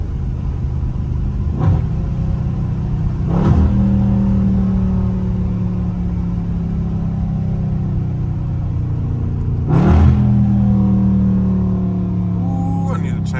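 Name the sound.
catless Dodge Scat Pack accelerating in track mode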